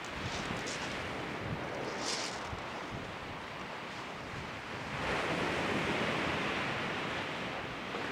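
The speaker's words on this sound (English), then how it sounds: "It's just that wind is coming along the beach." Wind sweeps along the shingle of Chesil Beach at first light in a continuous, loud, rushing roar that swells briefly midway, with no voices.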